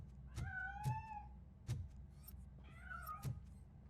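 A cat meows several times in the Robocop: Rogue City video game, with drawn-out, rising and falling cries at close range over a low, steady background hum.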